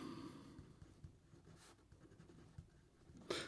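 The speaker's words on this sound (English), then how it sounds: "Here we go with the writing sample for the Waterman" A Waterman Carène fountain pen in Marine Amber finish writes on paper, giving soft, faint scratching strokes with small taps, close up over low background noise.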